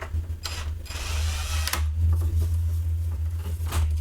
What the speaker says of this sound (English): I'll finish it off with this longer screwdriver.